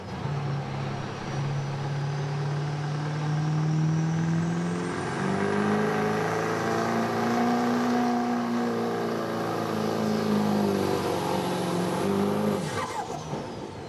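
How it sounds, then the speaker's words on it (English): A Chevy 3500 open street diesel truck drones loudly at a truck pull, its engine note climbing and holding under load for several seconds before dropping off sharply near the end. "rounding out the class here tonight is going to be a Chevy 3500 driven by Pat Carfley"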